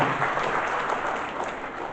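An audience applauds at a public cultural event at Taman Budaya Sentawar in Kutai Barat, a dense, steady wash of clapping that stays fairly loud throughout.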